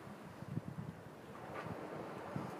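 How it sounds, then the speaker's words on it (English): Outdoor wind buffets the microphone in a steady, low rumbling roar with slight gusts throughout, with no voices. "A little windy."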